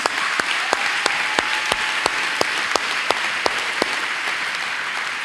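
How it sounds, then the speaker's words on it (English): A pageant crowd applauds the contestants, a steady wash of clapping with a single sharp, regular clap standing out close by at a brisk rhythm over about five seconds. "Can we give the ladies another round of applause,"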